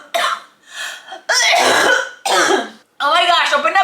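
Repeated harsh coughing fits and throat clearing from someone cooking chile de aceite, a chile oil made with many chiles, set off by the pungent fumes; several close, loud bursts separated by short pauses.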